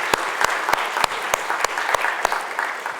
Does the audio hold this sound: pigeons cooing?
no